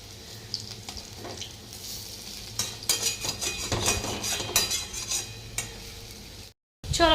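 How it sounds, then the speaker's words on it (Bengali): Bora fritters frying in a pan of oil give a steady crackling sizzle, broken by stirring scrapes and light utensil clinks, with a brief drop to silence near the end before the sizzle returns loudly. "আর এই বড়া ভাজা করতে যে কী তেল লাগে"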